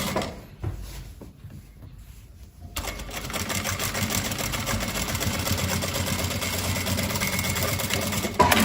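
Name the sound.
sewing machine topstitching a sweatpants pocket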